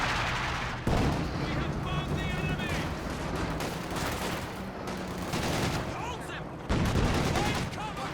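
Machine gun and mixed battlefield fire from the strategy game Company of Heroes 2 crackle in dense, continuous bursts with sharp heavier impacts, all under a caster's talk.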